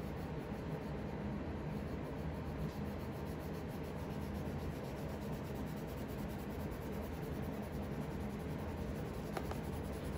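Colored pencil shades a drawing on paper with a continuous soft scratchy rubbing that stays steady and close for the whole stretch, with no talking.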